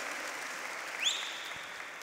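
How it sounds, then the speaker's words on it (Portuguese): Applause from a church congregation during a sermon, a steady even wash of clapping that holds throughout with a brief swell near the middle, moderately loud and without talk. "pode dar umas grandes salvas de palmas"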